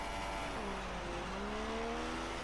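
Race cars roar away from the grid at a race start in the F1 2016 video game at the German round, engines climbing together through rising pitch in a dense, continuous, loud wail with no talk over it.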